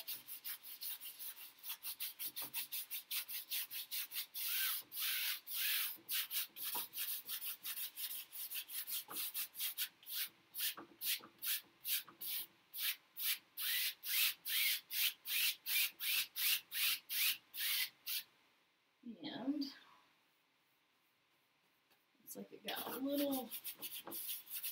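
Brush scrubbing oil paint onto canvas, a rapid series of dry rasping strokes in rhythmic bursts, close and clear, broken by a pause and a couple of brief spoken interjections.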